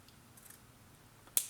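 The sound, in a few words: scissors bevel-cutting paper gluing strip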